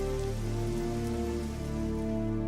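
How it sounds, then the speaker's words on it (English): Steady rainfall standing in for liquid methane rain on Saturn's moon Titan, a continuous even patter that runs throughout beneath a loud, sustained droning musical tone. "Liquid methane, it seems, rains down on Titan"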